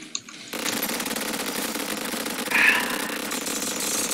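A chain gun fires in Terraria as a steady, fast mechanical rattle that runs continuously after a brief start, with a short louder swell midway.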